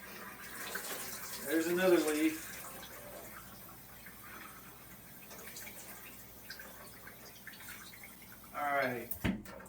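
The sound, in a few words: rinsing freshly picked blueberries under running water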